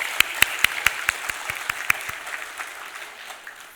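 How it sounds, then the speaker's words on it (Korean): A church congregation applauds the people who prepare the weekly meals, a sparse run of sharp claps that thins and fades over a few seconds, with no talking. "매주 식사 준비하시는 분들께 우리 다 같이 박수 한번 하시겠습니다."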